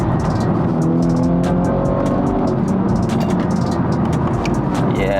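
BMW F30 330e plug-in hybrid, tuned to Stage 2 at about 400 bhp and carrying three people, accelerating hard in Sports Plus mode with the tail kicking out: loud sustained engine roar rising steadily in pitch inside the cabin, with sharp ticking transients over a constant road rumble.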